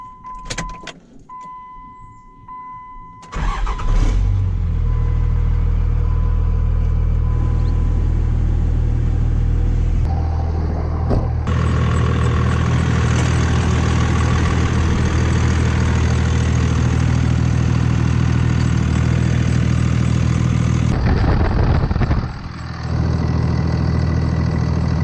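A Cummins diesel engine cranks over and catches, then settles into a loud, steady idle that rumbles on close by for most of the clip, with no talking.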